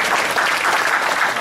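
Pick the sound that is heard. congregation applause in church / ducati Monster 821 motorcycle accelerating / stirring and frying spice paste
congregation applause in church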